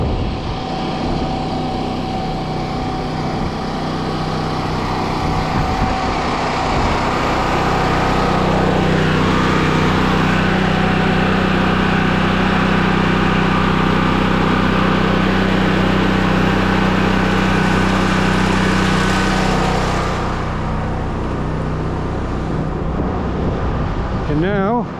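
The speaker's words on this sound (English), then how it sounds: "Then we go back over here and plug her in the generator," A generator running at a camp, giving a loud, steady engine drone from close by that holds for the whole stretch with no break.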